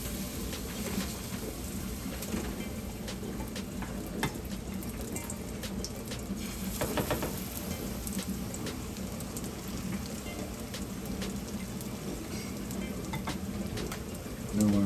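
Banana fritters fry in a pan of oil, giving a steady, rain-like hiss close by as a spatula scrapes and moves them apart, with a brief louder stir midway.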